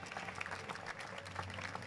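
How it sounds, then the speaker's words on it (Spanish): Faint, distant applause from an audience at a presentation of a student weather-balloon project, a steady dense patter of many hands lasting under two seconds. "pido un aplauso muy fuerte para estos caballeros"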